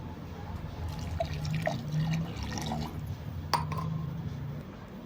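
Water trickles into blended tomato in a mixer jar, a faint, soft pour with a few scattered drips over low background noise.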